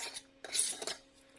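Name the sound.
metal canning lids and rings placed on jars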